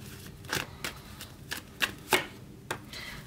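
Tarot cards are shuffled and flicked down one by one, a series of crisp close papery snaps at an irregular pace, quiet and with no talk.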